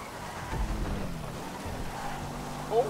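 Steady rain and a rumble of thunder in the open-world game GTA V Online, a constant wash of rainfall running throughout with a brief louder swell near the end, heard without speech.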